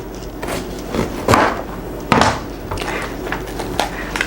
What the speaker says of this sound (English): Chop this guy up.